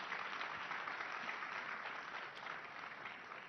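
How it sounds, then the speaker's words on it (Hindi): Audience at a summit applauding to welcome a chief minister onto the stage, a continuous full crowd of clapping heard from a distance, steady and slightly fading toward the end. "रेखा गुप्ता जी यहां राइजिंग भारत के मंच पर जोरदार तालियों से इनका स्वागत कीजिए।"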